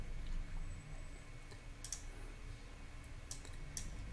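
Several sharp mouse clicks on a computer while working in a spreadsheet table, a few isolated taps spaced over a few seconds against a low steady room hum.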